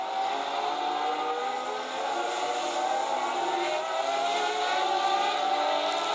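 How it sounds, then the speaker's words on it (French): Peugeot and Toyota prototype race cars at the 1993 Le Mans 24 Hours, a continuous loud high-pitched engine roar at full speed on the straight, steady throughout with slight shifts in pitch. "Dans cette ligne droite, les plus rapides, les Peugeot et les Toyota atteignent plus de 350 km/h"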